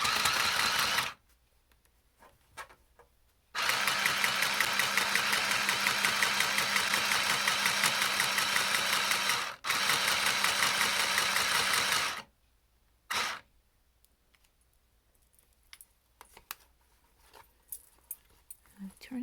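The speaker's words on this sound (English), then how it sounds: "Now I'm ready to sew the back seam." A handheld sewing machine buzzes loudly and steadily through two long stitching runs on a back seam, separated by a brief pause, with short quiet gaps and small handling clicks before and after.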